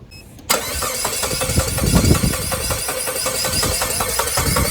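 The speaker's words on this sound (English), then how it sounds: "So I'm gonna power this thing on, see if we can get it to jump start." A Saab 9-3 with a four-year-old battery cranks on a jump starter pack: after a brief quiet start, a loud, steady rhythmic churning of the starter motor runs continuously without the engine catching.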